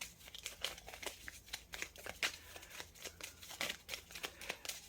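Tarot cards drawn and handled during a quiet indoor reading: soft papery slides, flicks and snaps come in quick irregular bursts, close and faint, with no speech.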